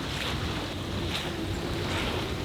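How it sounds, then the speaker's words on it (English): Steady rushing wind and splashing waves surround a sailboat heading out into windier open water, a dense continuous roar with microphone buffeting and no voices. "It's getting a little bit windier now that we're getting out"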